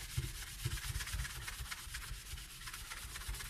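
A kitchen sink is scrubbed with silver stone cleaning paste, a close, steady rhythmic rubbing and scouring with repeated strokes and no voices.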